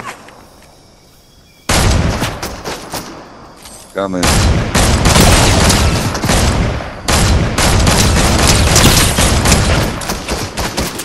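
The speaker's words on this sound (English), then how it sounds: "I hear gunfire." Rapid gunfire in the Fortnite battle royale video game, loud bursts of automatic shots and booming blasts after a quiet start, continuing in dense volleys with a player's voice briefly heard.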